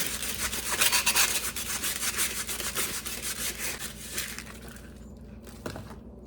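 Sandpaper rubbing over damp wood that is still too wet and gumming up the paper, giving a steady close scratchy rasp in quick strokes that eases off and thins toward the end.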